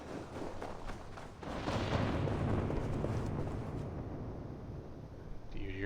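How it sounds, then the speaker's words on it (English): Deep, continuous rumbling roll of thunder in the video game Assassin's Creed Valhalla, swelling loud and broad before easing slightly toward the end, with no talk over it. "Sounds like thunder."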